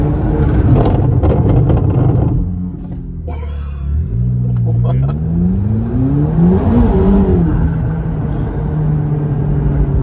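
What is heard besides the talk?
McLaren supercar braking hard, rear wing acting as airbrake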